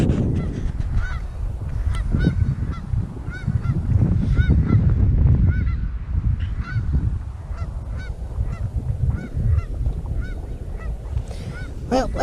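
A flock of geese honks repeatedly and almost continuously, some calls close and loud and others farther off, over low wind rumble on a cold, rainy spring day by the water.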